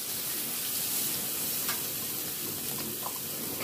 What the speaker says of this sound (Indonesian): saya akan goreng dulu sebentar teri medannya sampai tercium bau harum